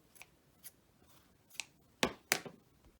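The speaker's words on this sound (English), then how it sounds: "Now we need to go ahead and trim off any of these threads that are hanging from the stitch out," Scissors snipping loose threads off a sewn Sherpa seatbelt cozy, about six crisp, close cuts spaced irregularly, the last two louder, with no voice.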